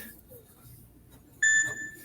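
A steady electronic beep tone from the Spider-Man: No Way Home film soundtrack sounds abruptly partway through after quiet, held and fairly loud, like a tense soundtrack cue.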